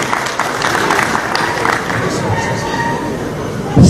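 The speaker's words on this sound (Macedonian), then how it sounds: "И за него еден аплауз." Applause from the audience at the opening of an exhibition, a sustained patter of clapping heard under someone talking, with a brief louder burst at the very end.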